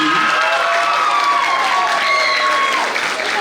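An audience at the Bikini Ayiti Mizik Fest, a music festival and bikini contest in Haiti, applauds and cheers in a steady, dense wash of clapping with faint tonal sounds running through it.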